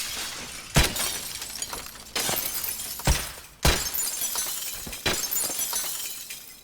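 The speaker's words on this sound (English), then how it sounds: "you can just bust through the windows like I'm doing here" Glass windows shatter in Escape From Tarkov, with five sharp breaking crashes at irregular intervals, each followed by a trailing tinkle of falling shards.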